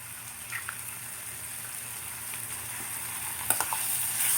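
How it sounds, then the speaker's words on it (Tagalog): A single egg frying in a pan, giving a steady close sizzle throughout with a few sharper crackles and pops toward the end; no voices. "Lagay na natin yung ating itlog."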